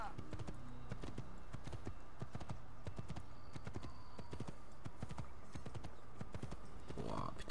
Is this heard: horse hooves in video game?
yes